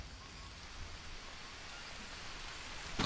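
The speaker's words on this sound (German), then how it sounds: "Ach so, weil es regnet." Steady rain in the survival video game Green Hell, a constant soft hiss of falling drops on the jungle canopy that runs without a break, fairly faint and even throughout.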